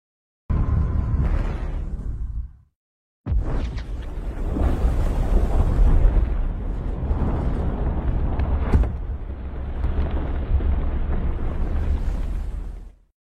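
A film-scene explosion bursts abruptly after a short gap and settles into a loud, sustained, deep rumbling roar that fades out over about ten seconds.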